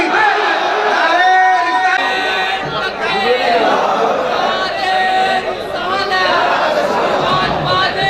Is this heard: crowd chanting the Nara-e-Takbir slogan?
yes